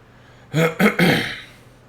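Three quick, harsh throat-clearing coughs in a row, close to the mic, followed by quiet.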